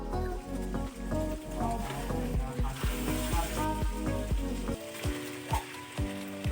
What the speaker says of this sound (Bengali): বারবার ঢাকা দিয়ে মাংসগুলো কষিয়ে নেব।